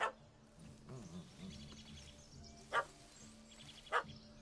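A small dog barks a few times in The Witcher 3, short sharp yaps spaced apart over quiet ambient background and a low murmuring voice.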